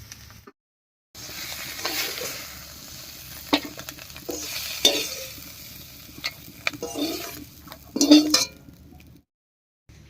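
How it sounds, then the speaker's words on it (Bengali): Mushrooms frying in a pan with soft, steady sizzling, punctuated by stirring scrapes and occasional clinks of a utensil against the pan, close and moderately quiet. "মাশরুমটা হালকা করে ভেজে নিয়েছি, এবার নামিয়ে নিচ্ছি"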